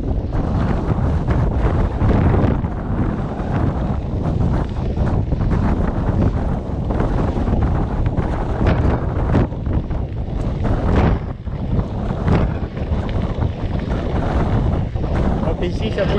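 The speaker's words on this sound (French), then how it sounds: "j'ai le vent qui vient comme ça." Heavy wind buffets a GoPro Hero7 Black action camera while riding, in continuous rough gusts, a loud roaring rumble that never lets up.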